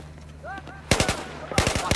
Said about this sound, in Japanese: スナイパーの音もなんかいいですよね。